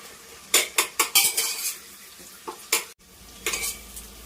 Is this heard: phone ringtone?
no